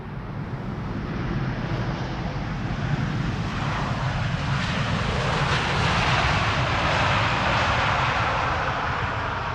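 A KLM Boeing 787-10 Dreamliner arrives at Schiphol after a long-haul flight from Cartagena, its jet engines a continuous broad roar that swells slightly and carries wind noise.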